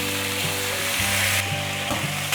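Red mushrooms are stir-fried in a pan, with a loud, steady sizzle running throughout and the scrape of stirring mixed in.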